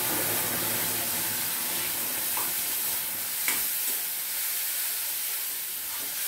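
Steady hissing sizzle of a ground paste frying in a pan for a jamun gravy, continuous and close, with an occasional faint clink of stirring.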